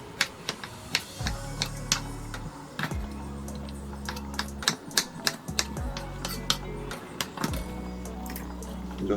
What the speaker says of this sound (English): We're going to cut the breadfruit half-inch thick cubes.